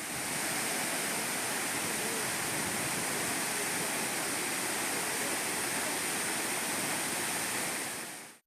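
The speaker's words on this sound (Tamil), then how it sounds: "மிதமான வேகத்தில் கொட்டும் அருவியின் இதமான பொழிவில் மக்கள் வரிசையில் காத்திருந்து நீராடி" A waterfall pours steadily at moderate force into a bathing spot. The dense, even rush of falling water is loud and close and continues without a break until it cuts off at the end.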